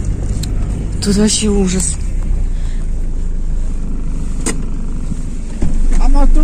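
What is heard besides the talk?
car driving on a bumpy road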